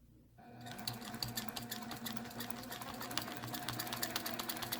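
A domestic sewing machine stitching straight lines on a quilt starts up after a brief quiet moment, then runs at a fast, even stitching rhythm, close and steady throughout.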